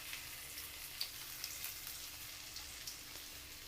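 Ginger pieces and green chilli bits fry in hot oil with tempering spices for vermicelli upma, a faint, steady sizzle with small crackles throughout.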